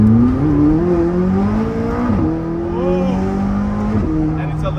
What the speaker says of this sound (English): I'm gonna do a little bit of an acceleration up the hill here